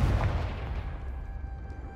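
Confringo blasting spell in Hogwarts Legacy bursts with a loud booming blast at the start, then a rumbling tail fades under a faint steady tone for the rest of the moment.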